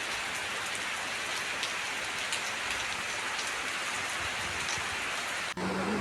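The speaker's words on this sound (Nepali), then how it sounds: "यसरी पानी परेछ आज है।" Steady, dense rain falls across a village in Nepal, a continuous close hiss of drops on surfaces with no voices, briefly dipping near the end before resuming.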